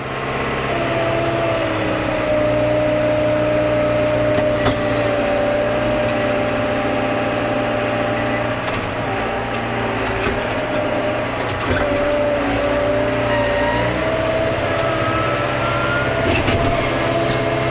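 A machine engine drones steadily while the first scoop of poultry litter is loaded into a spreader on a farm, a constant mechanical hum with occasional clanks and knocks and no talk.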